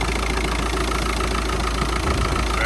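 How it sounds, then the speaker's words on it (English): A VW Jetta diesel engine idles close by with a rattly, knocking clatter, steady and loud throughout with no voices. "Sounds like a rattly diesel still."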